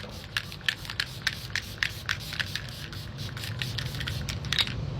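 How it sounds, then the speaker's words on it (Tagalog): A bottle of makeup setting spray is pumped in a rapid series of about a dozen short, hissing spritzes, sharp and close, followed by a softer hiss. "Setting spray muna pala."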